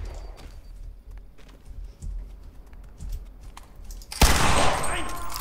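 A shotgun firing in the Cuisine Royale battle royale video game, quick sharp game shots over faint background, then one loud blast followed by a sustained noisy burst near the end.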